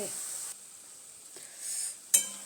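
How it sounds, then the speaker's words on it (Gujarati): Gathiya, crisp chickpea-flour strands, frying in hot oil give a soft, steady sizzle and hiss throughout, with a sharper clatter near the end. "તો આવી રીતના આપણે બધા ગાંઠિયા તળ લેવાના"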